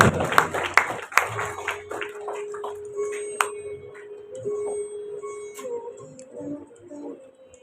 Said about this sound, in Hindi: सभी तालियां बजाएं जोरदार।